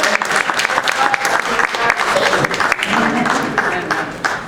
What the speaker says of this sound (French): je pense qu'on peut donner une bonne d'applaudissements à Dieu.